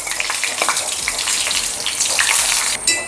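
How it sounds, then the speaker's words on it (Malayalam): Dried red chillies fry in hot oil in a home kitchen, giving a dense, continuous sizzle with fine crackling and spitting throughout, close and fairly loud. "ആദ്യം മുളക് നന്നായിട്ട് മൂപ്പിച്ചെടുക്കണം"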